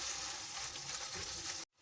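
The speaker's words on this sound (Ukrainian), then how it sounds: "поки наш фарш смажиться" Minced meat sizzling and crackling steadily in a hot pan, a dense continuous hiss that cuts off abruptly near the end.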